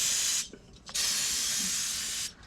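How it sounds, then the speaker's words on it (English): Brake cleaner sprays from an aerosol can onto differential gears under an aluminum diff cover job: a short hissing burst, a brief gap, then a longer loud sustained hiss that cuts off, close up and without speech. "I'm gonna spray it again with brake cleaner for anything that's falling in like the gears here"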